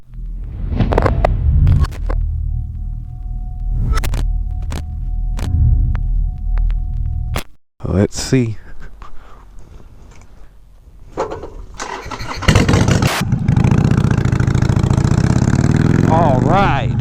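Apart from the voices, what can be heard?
motorcycle with LAF aftermarket exhaust running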